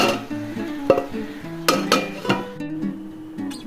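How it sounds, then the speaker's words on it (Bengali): Okra in a pan is turned over with a utensil and the lid is set back on top, giving several close metallic clinks and scrapes at an uneven pace over a steady background hum. "ভেন্ডিগুলো একটু উল্টিয়ে দিচ্ছি, এভাবে আবার ঢাকা দিয়ে দিচ্ছি"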